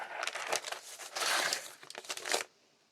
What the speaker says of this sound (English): this box, or a mailer that fits this box, and I'm going to cut it so that it fits.